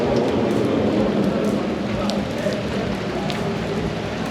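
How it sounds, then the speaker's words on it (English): Heavy rain pours over a 24-hour race track, a loud, steady, dense hiss of drops striking surfaces that runs without pause throughout. "It's too much rain"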